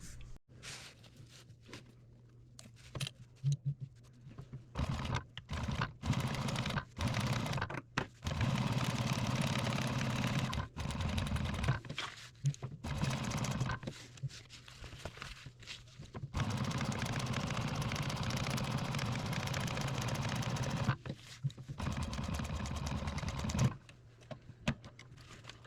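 Sewing machine stitching a laser-cut micro rig placard, running in several loud, steady bursts of rapid needle clatter separated by short pauses.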